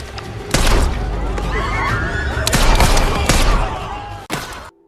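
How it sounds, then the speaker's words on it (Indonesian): Gunshots and heavy impacts crack out repeatedly through a loud film shootout scene, with sharp bursts at intervals over a dense background of clatter and rumble. "pertemuan ini pun berujung aksi baku tembak"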